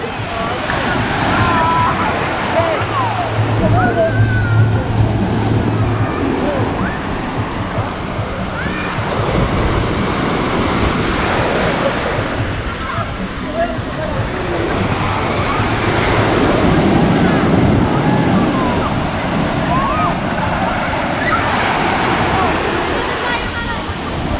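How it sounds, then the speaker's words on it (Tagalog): Strong ocean waves crash and surge steadily onto the beach at Tando Beach Resort in Infanta, Quezon, a loud continuous roar of surf mixed with wind buffeting the microphone. "Ayan guys, ang lakas ng alon."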